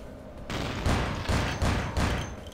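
Gunfire in Vampire the Masquerade: Bloodlines, several heavy shots landing in quick succession, each a loud booming burst close up.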